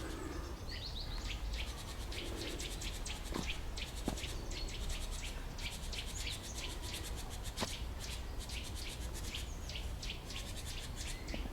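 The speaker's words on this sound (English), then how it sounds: "There's at least 2 different birds there of different species." Birds of at least two different species chirp and trill outdoors on a hillside in Lviv, Ukraine, over a steady insect buzz, with repeated short calls scattered throughout.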